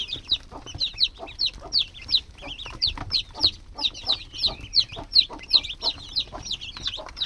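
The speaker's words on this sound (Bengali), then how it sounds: "3 পদের মুরগি, 2 পদের হাঁস" Several kinds of farmyard chickens cluck in a steady run of short repeated calls close by, with faint low background noise and no talking.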